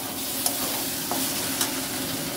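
Mushroom curry frying and being stirred in a pan, a steady close sizzle broken by a few soft scrapes and clicks of the spoon.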